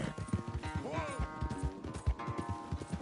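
Horse hooves pounding in a race in Red Dead Redemption II, a rapid rhythmic clatter throughout with a brief whinny-like tone partway and a voice briefly speaking over it.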